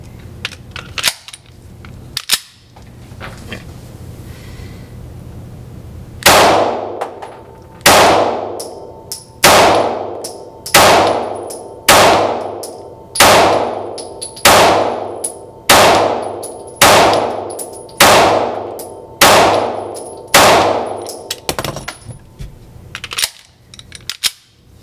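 A pistol fitted with an AT3 ARO micro red dot sight fires a long, steady string of loud shots at a steel target. Each crack is followed by a ringing metallic clang, spaced about a second apart, with no talk.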